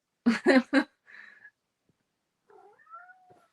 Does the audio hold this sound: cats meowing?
yes